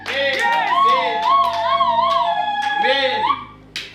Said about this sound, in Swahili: Piga vigelegele